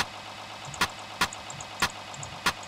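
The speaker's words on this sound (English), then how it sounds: "Now when you hear the engine is now fully running" Ship's diesel engine in a Kongsberg engine-room simulator, idling with a low steady rumble and a sharp periodic knock roughly every half second, heard alone.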